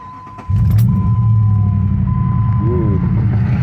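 A third-generation Hemi V8 idling rough with a shake, heard from inside the cabin as a loud, steady low rumble, with a faint chime and a short squeak partway through.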